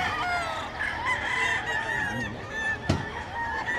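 Roosters crow repeatedly amid geese-like honks and clucking at Bocaue pet market, overlapping calls near and far in a busy, noisy setting.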